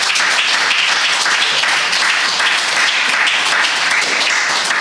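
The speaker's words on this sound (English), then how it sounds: "let's give them one last round of applause" Sustained applause from a large audience at a panel Q&A session, dense steady clapping throughout with no pauses, fairly loud.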